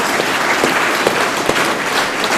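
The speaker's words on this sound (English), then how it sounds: "I think that's something that deserves a little clap for these kids." A crowd at an FFA chapter banquet claps for the students, dense steady applause filling the room, close and loud, with no talking.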